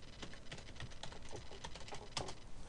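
Someone types on a computer keyboard in a quiet room, producing a quick, irregular patter of soft key clicks heard close by without speech.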